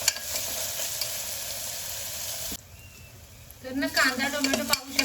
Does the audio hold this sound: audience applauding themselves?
no